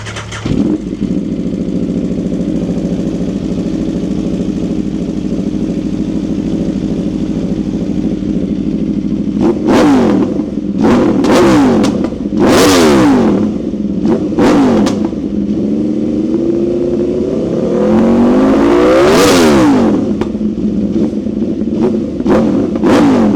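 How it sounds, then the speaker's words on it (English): An Aprilia RSV4 sport motorcycle with a LeoVince aftermarket exhaust idles warm with a deep steady rumble, then gets several sharp revs that climb and fall, including one long, loud rev, close by. "It's already warm, so I'll just let it idle for a second and I'll go ahead and give you some revs."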